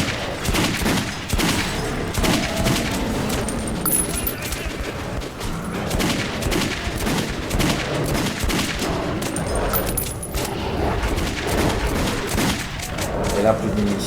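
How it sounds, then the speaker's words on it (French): Magnum revolver fire in the Metro Redux video game keeps up a dense, loud barrage of gunshots and booms, continuous and close, with someone talking over it. "Quand on tire comme ça, on espère quand même que ça fasse plus de dégâts"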